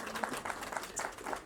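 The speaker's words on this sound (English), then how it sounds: "Please clap for him." Brief clapping from a conference audience at an aviation health panel for an airline's director of safety, a short burst of rapid overlapping claps at moderate loudness.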